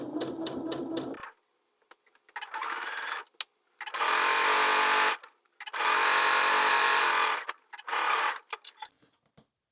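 A sewing machine stitches a French seam on a skort, running in several bursts of steady whirring separated by short pauses, with a few quick ticking stitches at the start.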